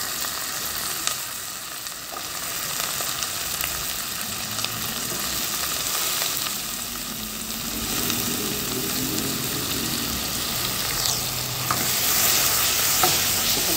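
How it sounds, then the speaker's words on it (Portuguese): Chopped tomato sautés with onion and garlic in a pan, a loud continuous sizzle with the scraping of steady stirring throughout. "depois que eu dei uma refogada na cebola junto com o alho, vou estar colocando o nosso tomate picado"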